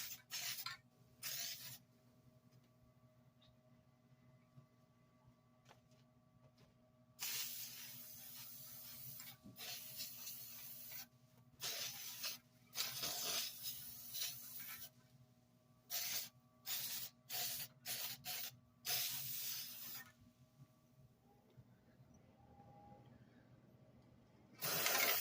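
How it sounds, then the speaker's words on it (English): Short bursts of aerosol spray paint laying down a base coat, close and hissing, in repeated on-off pulses of varying length separated by quiet pauses. "We're going to paint these to match our lovely lamp"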